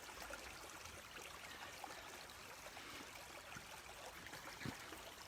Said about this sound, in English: This is us filling our water tank.